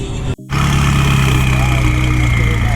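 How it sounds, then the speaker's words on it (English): McLaren car engine runs loud and close with a rough, steady growl, cutting out for an instant before resuming, while people talk nearby. "Ooh, Matt's McLaren sounding nasty."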